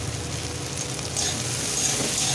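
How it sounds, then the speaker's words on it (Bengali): Onions frying in hot oil for a spicy Bengali boal fish curry, a steady close sizzle that swells slightly partway through, with no talking. "পেঁয়াজটা একটু ভেজে নিচ্ছি"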